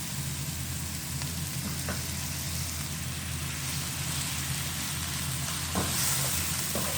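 Finely chopped tomatoes frying with garlic in a pan for homemade pizza sauce, a steady close sizzle with occasional stirring scrapes and no talking.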